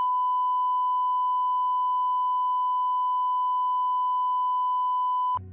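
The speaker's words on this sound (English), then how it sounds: "You know what I was saying, but I also beeped out most of it." A steady, loud single-tone censor beep over speech holds for over five seconds without a break, then cuts off abruptly into a brief low rumble.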